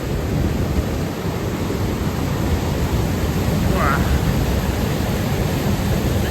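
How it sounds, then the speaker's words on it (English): Roaring rush of St. Mary Falls in Glacier National Park on a rainy day, a steady loud broadband wash of falling water close by, with one brief exclamation from a voice partway through. "Just hear the power in the water just by standing here."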